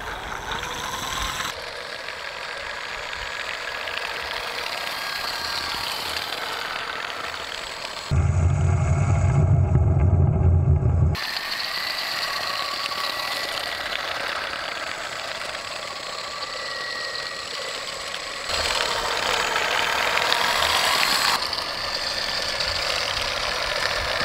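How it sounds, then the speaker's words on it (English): Chain-drive motor of a 3D printed RC ice vehicle fitted with a larger motor gear, running with a steady mechanical whir, near and fairly loud, with a louder, lower-pitched burst partway through. "Here I'm testing a much larger gear on the motor, which would decrease torque but increase the top speed."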